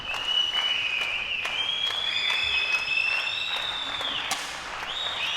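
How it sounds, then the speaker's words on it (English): Home crowd applauding at an airgun shooting championship, a steady wash of clapping under long tonal whistles or horns, with scattered sharper claps and faint voices. "Home crowd really getting into it"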